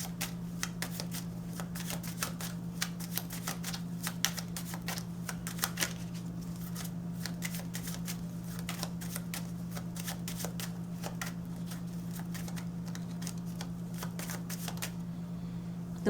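Tarot cards are shuffled by hand for a reading in a quick, steady stream of soft riffling clicks and flicks, close and continuous throughout, over a constant low electrical hum and with no talk.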